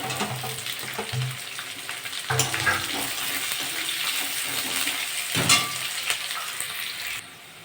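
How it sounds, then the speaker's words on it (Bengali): Onion frying in a pan for a banana-flower and potato ghonto, a continuous close sizzle with brief stirring bursts and a few louder spatters, tailing off at the very end. "পেঁয়াজটা ভাজা ভাজা হয়ে গেছে"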